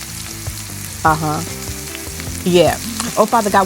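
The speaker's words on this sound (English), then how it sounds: "it's cheese and bacon and that sizzle" Cheese and bacon burgers sizzle and crackle steadily in a pan, up close, while a person speaks briefly over the frying.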